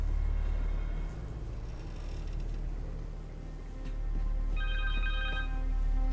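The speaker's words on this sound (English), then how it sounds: "Connor's cell phone." A cell phone rings in the Spider-Man 2 video game, a repeating electronic tone that sounds twice over a low rumbling background hum.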